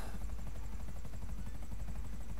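Helicopter in GTA 5 with engine trouble and smoke, a steady close rotor thump with a continuous low engine drone, loud and unbroken with no voices.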